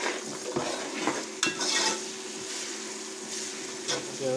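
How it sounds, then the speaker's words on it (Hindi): Onions frying in a pan for a village-style aloo saag sabzi, a steady sizzle with a few scraping stirs and light clinks of a utensil against the pan, close and moderately loud. "देखो माशाल्लाह इधर प्याज फ्राई हो रहा"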